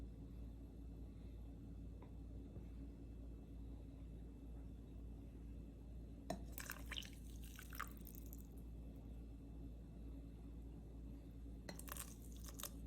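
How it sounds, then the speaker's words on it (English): Water slowly dripping through the filter of a Sambangan cold brew coffee maker bottle: faint, sporadic drips in a quiet room, with a few short bursts of crackling noise. "This is gonna slowly percolate through the cold brew bottle."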